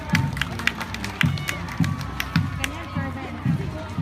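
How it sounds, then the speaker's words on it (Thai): A crowd at a school sports-day parade claps and cheers in the background, while a low rhythmic pulse from a marching beat repeats about every second underneath. "เสียงปรบมือนะครับให้กับคณะสีม่วง"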